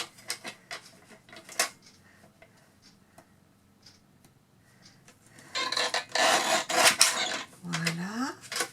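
Paper being cut for a handmade photo album, a run of soft ticks and taps followed by a louder, sustained rasping stretch of cutting near the end, close by with occasional quiet talk.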